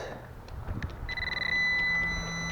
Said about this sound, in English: As you get closer and closer, it beeps faster and faster until it becomes a constant beep.